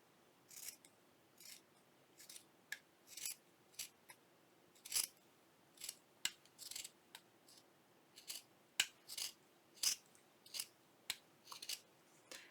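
Scissors cutting fabric for a pouch, a series of crisp separate snips at irregular intervals over a quiet background, close and faint, no talk.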